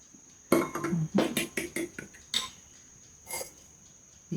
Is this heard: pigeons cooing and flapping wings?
no